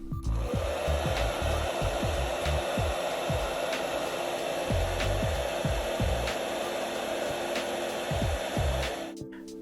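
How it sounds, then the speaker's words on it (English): A hair dryer blows steadily at close range, warming an iPhone XS Max during screen replacement, its whooshing drone broken only by soft intermittent knocks. "I recommend warming up the cable with a hairdryer."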